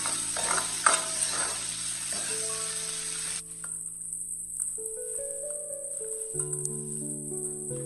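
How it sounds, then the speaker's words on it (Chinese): Pork belly stir-fries in a little oil in a wok over low heat, a dense crackling sizzle for about three seconds with some scraping, then falling quiet while soft melodic background music plays. "起锅加入少许的食用油，油热之后下入切好的五花肉，开小火煸炒，把五花肉炒出多余的油脂。"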